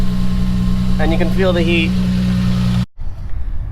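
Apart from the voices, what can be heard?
exhaust leak on Lexus IS300 with GReddy catback exhaust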